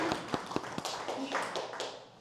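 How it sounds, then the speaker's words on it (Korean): A small audience claps briefly at a traditional gochujang and liquor pairing tasting in Jangsu, a few scattered claps close by with voices over them. "박수 한번."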